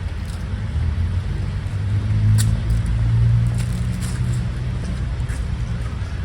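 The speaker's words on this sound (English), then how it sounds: "Okay, the truck is here." Delivery truck carrying a crate engine pulls up outside a house, a steady low engine rumble that grows slightly louder in the middle, with faint outdoor noise over it.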